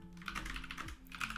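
Rapid keystrokes on a computer keyboard during programming, close and clear, in an irregular burst of clicks over a low steady hum, with no talking.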